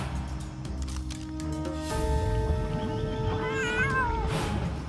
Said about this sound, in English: It's Mayor Humdinger's kittens in that dinosaur costume.